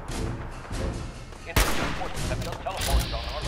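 Gunfire from Fallout 4 in Survival Mode, aimed at an Institute synth that has teleported in: loud game shots with a sharp burst in the middle and another toward the end, over a busy background of combat sound.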